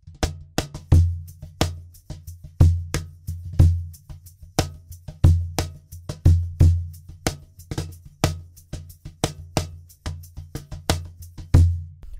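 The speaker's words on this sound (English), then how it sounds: "But now with the foot shaker on our foot, we can actually make that the eighth notes of the hi-hat" Cajon groove with a foot shaker keeping steady eighth notes like a hi-hat, deep bass thumps and sharp slaps in a repeating pattern over the constant shaker rustle, close and alone.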